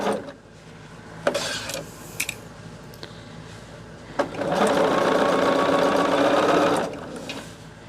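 Sewing machine stitching fabric, running in short bursts and then one longer steady whirring stretch with a rapid mechanical needle rhythm, close and fairly loud, no talking.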